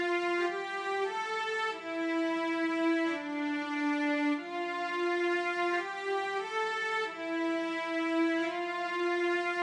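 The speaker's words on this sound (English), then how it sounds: "I just found these cellos, just a standard sounding cellos in Logic, and I played the string melody" A standard cello patch in Logic plays a slow, sustained string melody of legato notes gliding between pitches. It is smooth and continuous at moderate volume, with no other sounds.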